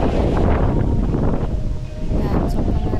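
Strong wind buffets a microphone outdoors on a hike toward the beach in Dingalan, a steady loud roaring rumble that fills the whole stretch with no talk.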